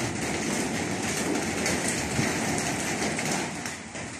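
Heavy rain falls with gusting wind outdoors among trees, a steady, loud, dense wash of noise that holds without a break.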